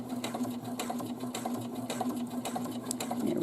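A sewing machine stitches the side opening of a drawstring bag with a steady, close mechanical hum and a rapid needle rhythm that runs without pause.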